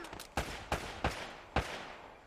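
Pistol fire in Uncharted: Drake's Fortune, four sharp gunshots spaced unevenly over a couple of seconds, each with a short echoing tail, heard alone without talk.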